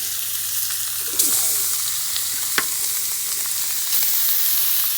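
Chuck roast steaks sizzle on a hot griddle over a fire with a steady, dense frying hiss, punctuated by a few brief pops and crackles and no voices.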